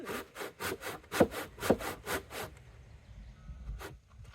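A hand saw cuts through wood for a driveway gate in about eight quick back-and-forth rasping strokes, close and moderately loud, then stops, leaving quiet room noise and one last faint scrape.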